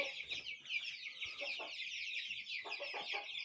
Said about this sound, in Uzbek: Mana aka-ukalar, sotiladigan jo'jalar